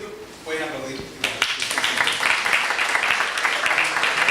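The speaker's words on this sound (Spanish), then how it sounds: "pueden aplaudir" Audience applause breaks out at a seminar in Chile after a speaker's voice, a steady, moderately loud patter of many hands clapping that continues evenly to the end.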